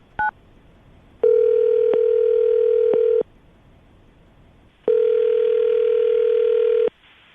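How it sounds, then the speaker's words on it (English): A telephone dial tone hums steadily in two long, loud stretches separated by a gap, with a brief blip at the very start and short interruptions like keypresses during the first stretch; no voices. "I'm going to dial the phone number right now"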